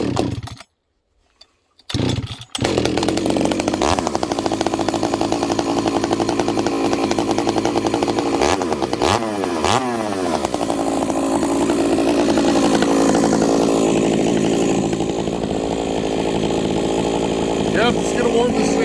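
A newly built chainsaw with a new cylinder starts after a few pulls and idles and revs as it warms up, loud and close, with a buzzing two-stroke drone that rises and falls.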